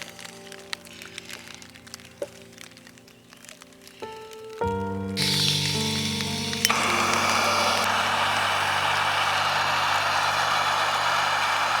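Onions, beef and vegetables fry on a camping stove high on a cloudy Scottish summit, with a steady, loud rain-like sizzle that surges in after a quieter start and runs on continuously.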